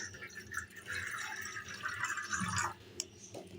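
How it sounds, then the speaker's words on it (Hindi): One cup of water poured during breakfast dough preparation, a soft continuous trickling and splashing of liquid with a faint clink near the end, heard fairly quietly and alone. "1 कप हम पानी लेंगे"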